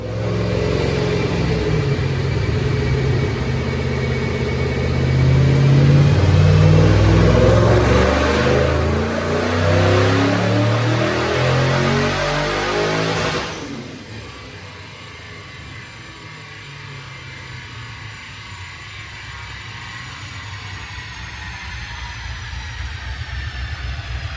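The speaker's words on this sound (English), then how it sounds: "We're gonna make a dyno pull right now, see where the numbers come out" A 2006 Ford Mustang Steeda car with a Paxton supercharger roars through a dyno pull, the engine building loudly to a sustained high rev before abruptly dropping to a lower idle-like drone.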